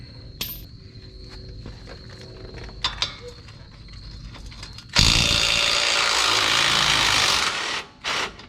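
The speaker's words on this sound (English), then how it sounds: "we're going to take the bottom shock bolt out" Impact wrench or power tool removing the bottom shock bolt on a Ford Super Duty axle, a loud sustained whirring burst of about three seconds after quieter clicks and clanks, followed by a brief second burst.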